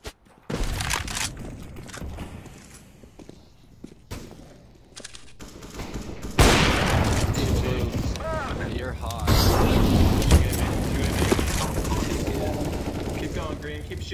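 Counter-Strike: Global Offensive match audio with a flashbang grenade and bursts of gunfire, loud and dense, building to sustained rapid shooting in the second half, with players talking over it.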